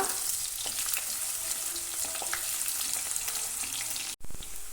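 Small shallots and fenugreek seeds sizzle steadily in hot oil for a Kerala fish curry, a dense, even frying hiss throughout with faint stirring scrapes, broken by a brief cut near the end.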